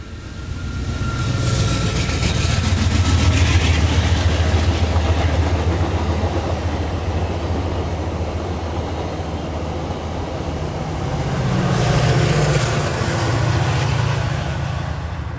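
A train rolls past on nearby tracks, a loud steady rumble with clattering wheels that swells, eases, then builds again over about fifteen seconds, with no talking.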